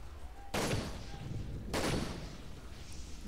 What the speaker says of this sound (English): It's like 4 or 5 sniper shots.